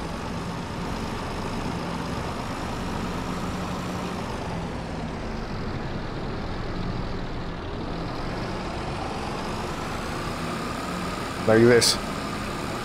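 A tractor engine idles in a farming video game with a steady mid-pitched drone throughout, while a person talks over it and a brief sharper noise cuts in near the end.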